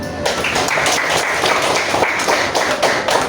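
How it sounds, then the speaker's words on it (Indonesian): A small group claps hands in a classroom during an AI lesson, a dense, steady patter of close claps running evenly throughout with no talk. "dulu beri tepuk tangan."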